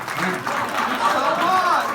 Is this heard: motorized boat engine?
no